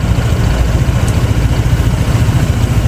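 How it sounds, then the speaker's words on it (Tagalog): A Honda ADV 160 scooter engine idles steadily nearby with a low, even rumble throughout, no voices. "habang umaandar yung motor"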